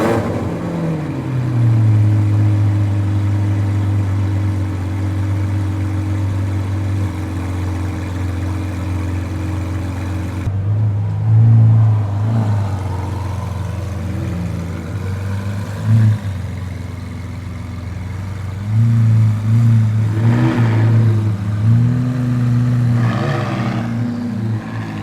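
A Lamborghini Aventador SVJ engine holds a deep, steady idle that rumbles loudly nearby, then gives a few sharper revving swells toward the end.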